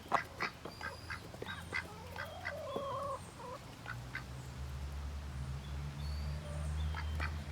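Two ducks quack in a barn enclosure shared with chickens, a series of short nasal calls and clucks early on, followed by a low steady rumble in the background.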